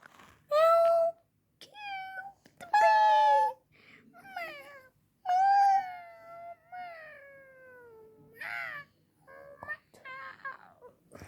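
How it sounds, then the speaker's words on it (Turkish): A cat meows several times, drawn-out and plaintive, with pauses between calls and a few soft voices in the background. "Aa miyavladı"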